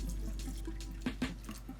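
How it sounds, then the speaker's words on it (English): A cup of water poured onto caramelized onions in a pan, a steady close splashing gush with a few brief louder sloshes near the end, no talk. "Once the onions are nicely caramelized, we're adding in 1 cup of water,"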